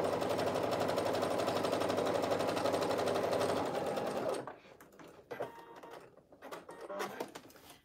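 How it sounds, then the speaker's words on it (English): A sewing machine stitches steadily through two layers of fabric for about four seconds at a loud, even hum, then stops, leaving quieter handling noises. "the machine handled two layers of fabric without eating it up at all"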